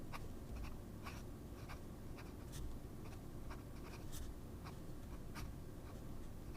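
A fine-nib Natami fountain pen scratches across paper in short, faint, irregular strokes over a steady background hiss.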